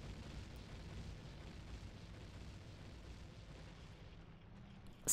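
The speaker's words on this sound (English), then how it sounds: "this is probably gonna be a big explosion" A bomb explosion in The Legend of Zelda: Ocarina of Time rumbles as a low, sustained roar, a long booming wash fading slowly, ending with a sharp burst at the very end.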